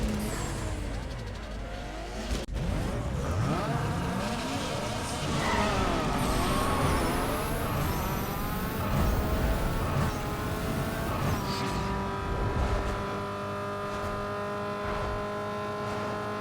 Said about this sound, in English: Okay, so let's quickly go and do a drag race.